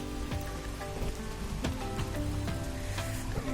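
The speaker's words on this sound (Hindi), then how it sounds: "बारिश अभी भी हो रही है हल्की फुल्की।" Light rain patters steadily on a surface in the Cameron Highlands, a dense continuous texture of drops with scattered sharper taps, close and moderately loud with no voices.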